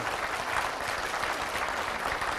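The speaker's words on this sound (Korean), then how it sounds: "우리 찬양팀에게도 많이 격려해 주시고 네, 감사합니다. 박수 보내주세요." A church congregation applauds its worship team during a Korean service, a steady, even wash of clapping that is moderately distant and continuous.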